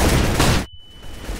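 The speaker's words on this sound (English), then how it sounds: "I'm throwing a flashbang." A flashbang grenade goes off in Counter-Strike: Global Offensive: a loud, dense blast that cuts off abruptly into near silence, followed by a thin, steady high-pitched ringing tone that slowly fades back into muffled game noise.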